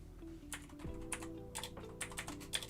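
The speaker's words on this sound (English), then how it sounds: "why am I typing a paragraph just to write like a sentence?" Rapid typing on a computer keyboard, with irregular bursts of light clicking keystrokes over a faint steady hum, close and quiet with no talking.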